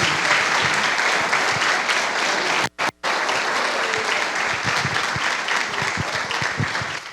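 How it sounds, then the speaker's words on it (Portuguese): A church congregation applauding at an evening service, a dense, sustained wash of clapping that fills the space, briefly cut by two short dropouts, then continuing steadily to the end. "Eu vou pedir só para os vencedores aplaudirem ao Senhor."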